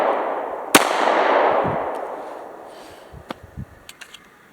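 A pistol fires a single loud shot, then after a pause several sharper, quicker shots in a loose rhythm, each a brief crack with some ringing tail, close by and with no talking over them.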